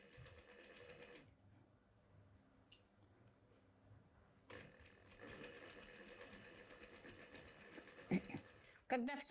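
A sewing machine stitches inseam pockets onto a garment in fits and starts, its motor whirring in bursts alongside occasional clicks and a sharper clack near the end.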